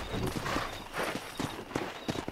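Horse hooves clip-clopping in the video game Red Dead Redemption, a quick regular beat of hoof strikes at moderate distance, fairly faint, with no talk over them.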